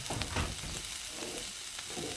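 Butter sizzles and fries steadily in a pan with a finely chopped whole medium onion for rice pilaf, a continuous crackling hiss with a few louder pops near the start, heard alone.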